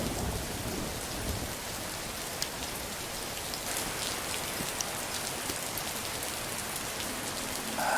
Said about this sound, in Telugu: వర్షం తగ్గాక వెళ్ళొచ్చులే